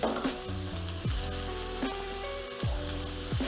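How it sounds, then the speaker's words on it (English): Beef sears in a hot pan, giving a steady crackling sizzle close by, with a rhythmic tonal pattern layered over it and no talking. "just put it in the pan and let it sear for about 30 seconds or so, and then flip it over"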